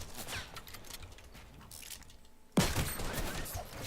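A sniper rifle shot from the Fortnite video game cracks sharply once, loud and sudden after a quieter stretch of game ambience, followed by lingering noise.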